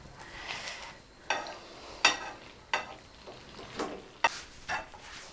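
Thick gravy bubbles quietly in a pan while a spoon stirs it, scraping in a slow, uneven rhythm with soft sizzling beneath.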